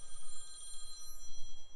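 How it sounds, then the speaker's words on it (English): A phone rings with an incoming call, a close, steady electronic trill that pulses continuously with no one talking. "I'm getting a phone call real quick."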